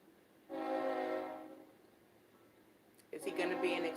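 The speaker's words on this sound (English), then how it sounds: "I live near the train tracks." A train passing near the tracks sounds a sustained, loud horn blast for about a second, which then fades into quieter rumbling. A second burst of noise follows, and a voice may be present.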